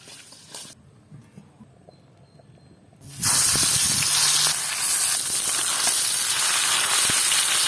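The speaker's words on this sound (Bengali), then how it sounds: "তুলার ডাডি মাছটা ভাজা হয়ে গেছে" Tular dadi fish frying in a pan, a quiet stretch giving way to a loud, dense, continuous hiss and sizzle of hot oil that holds steady to the end, with no talking.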